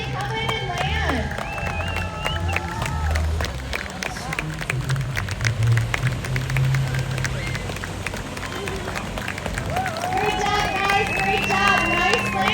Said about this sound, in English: Big round of applause as they come in and land.